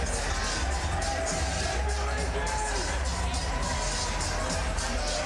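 Crowd noise at a Georgia Tech vs Clemson college ice hockey game: a steady roar of cheering spectators in an arena, continuous and loud, with an announcer talking over it.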